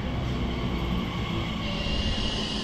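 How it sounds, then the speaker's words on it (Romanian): An Elizabeth Line train running toward Twyford, a steady loud rumble and rolling roar of rail travel heard from inside, constant throughout with no voices. "ne aflăm într-un Overground Elizabeth Line pe care îl vom lua până la Twyford"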